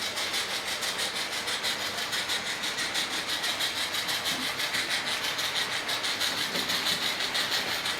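Hornby model locomotive Duchess of Atholl pulling Mark 3 coaches around a layout, a steady whirring motor hum with a fast regular clicking of wheels over rail joints, close and continuous.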